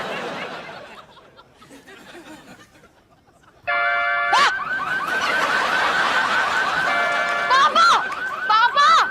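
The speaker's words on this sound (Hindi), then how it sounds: "इसका अलार्म ना कुछ दिनों से गड़बड़ चल रहा है।" A malfunctioning car alarm abruptly starts blaring after a quieter stretch with voices, then keeps up loud, steady electronic tones broken by repeated rising whoops.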